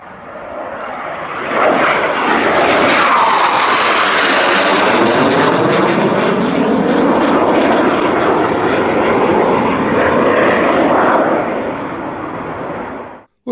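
A Tornado military jet flies past, its loud roaring engine swelling quickly and holding a broad sustained rush before cutting off abruptly.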